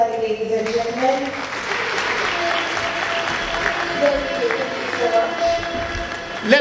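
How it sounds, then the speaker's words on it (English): An audience claps for a speaker at a talk on becoming a millionaire, dense applause running throughout with a voice speaking over it at times. "Let's give him another warm round of applause."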